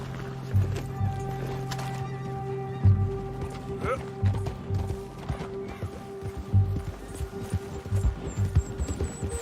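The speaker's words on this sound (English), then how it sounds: "A horse." Horse hooves clip-clopping in the video game Red Dead Redemption 2, a quiet uneven patter of steps under a low droning game soundtrack with occasional mechanical clicks and creaks.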